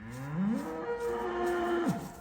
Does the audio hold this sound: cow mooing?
yes